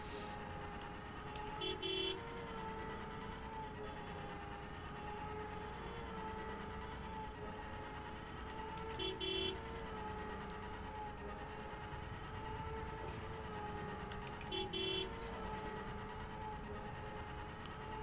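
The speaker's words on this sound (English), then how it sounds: "I think we can honk the horn as many times as we want." A vehicle horn in the video game SWTOR sounds three brief toots several seconds apart over a steady background hum of driving.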